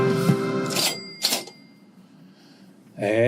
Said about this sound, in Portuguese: Caixa registradora aí no som significa que vem dica de economia